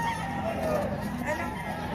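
Two-year-old Golden Boy bloodline gamecock at a poultry market in Padre Garcia, Batangas, giving a hoarse crow and clucks close by, mixed into steady crowd babble and nearby talking.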